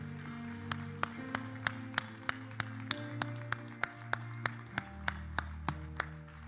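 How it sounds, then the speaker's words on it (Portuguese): A church congregation at a Baptist service applauds in slow, evenly spaced claps, about one per second, over sustained organ or keyboard chords that shift midway. "ao Senhor o nosso melhor aplauso"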